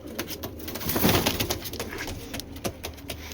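Giribaz pigeons of the Cobra Patti breed coo and murmur nearby in repeated throaty calls, with occasional wing flutters and rustling.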